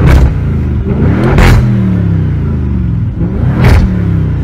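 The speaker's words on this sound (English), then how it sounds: "So this vehicle has got the sports exhaust fitted, so I'll just do a quick demonstration." Audi RS6 with sports exhaust fitted, revved while stationary: a deep, loud engine drone with three sharp throttle blips rising and falling, close up and without speech.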